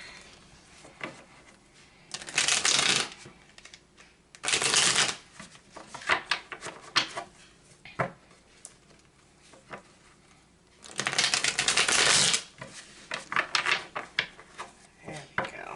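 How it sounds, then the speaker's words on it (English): Cards are riffled and shuffled in several quick bursts, with soft rustling and tapping between them, close up. "If I can shuffle these cards."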